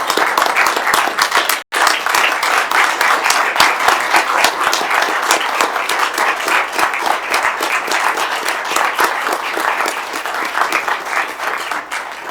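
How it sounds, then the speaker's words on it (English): A standing audience gives sustained, loud applause for a jail administrator at a Burke County, North Carolina gathering, dense clapping running steadily with one brief dropout near the start. "would you stand with me for just a moment and give this man a round of applause?"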